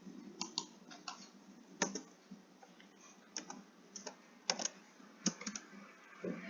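Someone types a Python code comment on a computer keyboard: irregular bursts of close, crisp key clicks with short pauses between them, and no voice.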